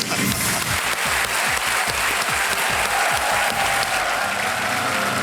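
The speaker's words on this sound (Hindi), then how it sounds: "इधर भी ताली बज गई" Studio audience on a TV quiz show bursts into loud, sustained clapping after a correct answer, dense and even across the whole stretch, with low rhythmic music beats pulsing underneath.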